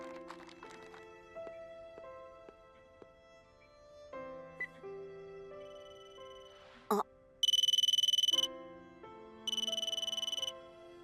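A mobile phone rings in a quiet indoor room, two bright electronic ringtone bursts sounding close and loud after soft background music and a brief click.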